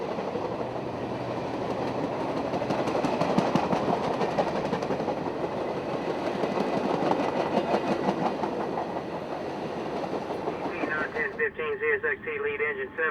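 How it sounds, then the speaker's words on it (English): Ringling Brothers and Barnum and Bailey circus train rolling past in Florida behind a CSXT lead locomotive, a loud, steady rumble and clatter of rail cars that holds for most of the stretch, then gives way to sustained tonal sounds near the end. "A November ritual in Florida is catching the Ringling Brothers and Barnum and Bailey circus train."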